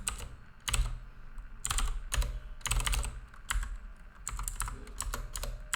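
PHP code being typed on a computer keyboard, with close, crisp key clicks in quick bursts separated by short pauses, alone without speech.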